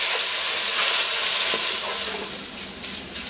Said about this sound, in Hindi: अब हम इसमें डालेंगे आलू के लच्छे, जो हमने धो के साफ करके रख लिया था, अब इसे हम क्रिस्पी होने तक कराते हुए भूनेंगे।